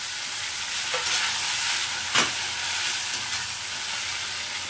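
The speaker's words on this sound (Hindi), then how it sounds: "हम गलने तक भून लेंगे।" Chopped tomatoes and onions for a potato curry fry in a pan with a steady close sizzle, a soft scrape of stirring and one sharp clink midway.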